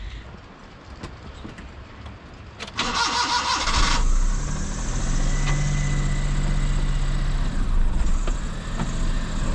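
A car engine cranks and starts, then settles into a steady idle, heard up close on a crowded street lined with parked cars and passing buses; no one speaks.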